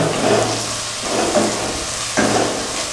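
Masala sizzles and fries in hot oil for Hyderabad-style chicken biryani, a steady close crackle with a few swells as the mixture is stirred, no talking.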